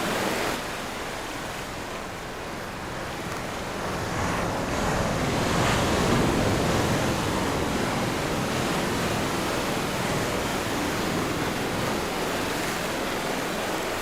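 Ocean waves at Kannur beach, Kerala, roll in as a continuous broadband wash of surf, swelling gently midway and staying steady throughout, with some wind noise on the microphone and no voices.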